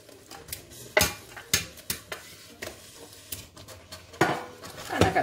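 Beef and orzo casserole (Greek giouvetsi) stirred in a pot, a series of loud metallic clanks and scrapes of a spoon against the pot at an irregular rhythm, close up, over a quiet background.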